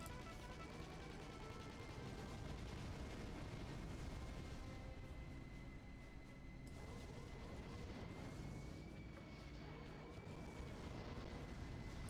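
Explosions and battle noise in the video game Battalion Wars 2, with naval combat between frigates, submarines and bombers. Dense, loud, continuous rumbling and crashing blasts fill the whole stretch.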